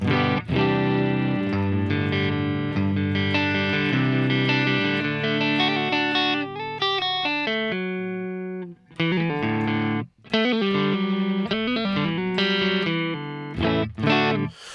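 Distorted electric guitar through the first channel of an STL AmpHub amp simulator, heavy amp tone, playing sustained chords and riffs with brief pauses, loud and upfront.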